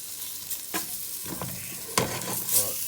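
Beef browning in a pot for stew, a steady sizzle broken by several short scraping stirs of a utensil against the pan bottom, close and unaccompanied by any voice.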